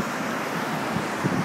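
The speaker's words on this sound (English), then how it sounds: "It's a little windy." Wind buffeting a microphone outdoors near a hospital, a constant low roaring rumble with gusty swells and no voices.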